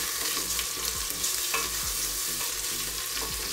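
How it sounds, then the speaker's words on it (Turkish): Frozen minced meat sizzling and frying in a pan with sautéed onions, a continuous crackling hiss with occasional scrapes of stirring, close and alone without talk. "Şimdi içerisine bu buzlu kıymayı atıyorum."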